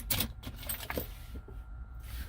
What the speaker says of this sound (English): put this in the ignition